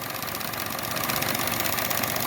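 A Chevy Sonic engine idles steadily up close, its even running drone overlaid by a constant broad hiss from a vacuum leak, with no voices.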